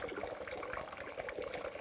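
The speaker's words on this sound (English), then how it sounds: "Now, the water still comes out of the bottom farther, doesn't it?" Water streaming out of holes in a can, a steady close splashing and trickling pour that runs unbroken throughout, quiet and with no voices.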